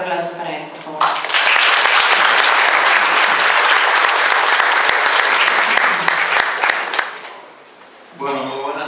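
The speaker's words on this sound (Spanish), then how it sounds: "Un fuerte aplauso para él, por favor." A university forum audience breaks into strong, sustained applause for a speaker, with dense clapping for several seconds that fades out before a voice comes in at the close.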